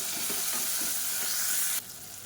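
Sliced onions fry in oil in a pan for salna, a dense steady hiss with faint stirring, dropping abruptly to a quieter sizzle near the end.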